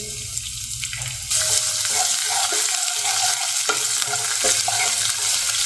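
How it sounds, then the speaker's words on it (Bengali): Chopped onions hit a hot pan and start frying, a steady broadband sizzle that jumps louder partway through, with scattered utensil scrapes and clicks over it. "পেঁয়াজটা বেশি ফ্রাই করবো না জাস্ট একটু ব্রাউন কালার চলে এলেই ডিমটা দিয়ে দেবো"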